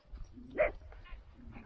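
A single faint shepherd dog bark in the distance, brief and muffled, over low background rumble.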